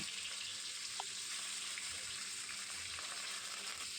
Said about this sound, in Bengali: এবার আমি এক এক করে মাছগুলোকে ভেজে নেব